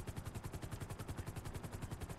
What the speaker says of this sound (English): Alright, so we're gonna land this helicopter right here.